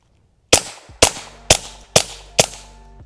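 Five suppressed .22 gunshots fired through a CMMG 022 suppressor, evenly spaced about half a second apart, each a sharp close crack with a short ringing tail and no talking.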